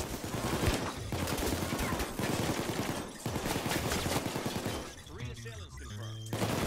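Dense gunfire in the video game Payday 2, including sniper fire, with continuous rapid shots and bursts, loud and close, under game voices and chatter.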